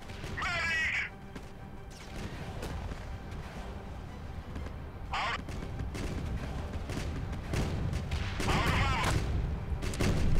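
Cannon fire in the Home Wars real-time strategy game booms over a constant battlefield rumble, with a few sharp bursts standing out among steady background noise and no talk.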